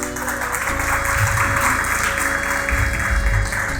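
Congregation applause at a Hindi-Punjabi church sermon, a steady dense wash of many hands clapping from start to finish, fairly loud, with no speech over it.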